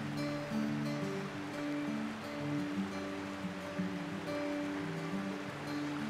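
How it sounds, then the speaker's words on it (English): Salmon River water rushes and splashes in a steady broadband wash, fairly close and continuous, with soft music playing underneath. "The Salmon River sings on its way to the sea."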